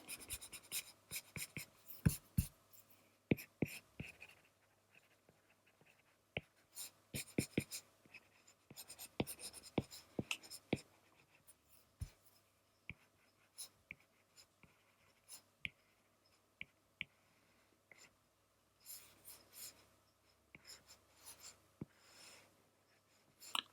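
A thick pencil scratching and sketching on paper while cleaning up and darkening cartoon lines, with a steady run of close, dry strokes and sharp taps and scrapes at an irregular pace, no talking.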